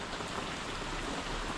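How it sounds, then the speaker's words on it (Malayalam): Heavy rain pouring down steadily, a dense, loud broadband hiss of drops striking surfaces with no gaps and no voices. "നല്ല മഴ"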